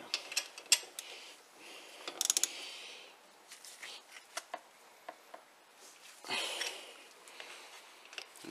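Spanner work on a rear brake caliper bolt of a Land Rover Discovery 3 during a big brake disc upgrade: scattered close metallic clicks and ratcheting taps, with a couple of brief louder scraping bursts, no talk.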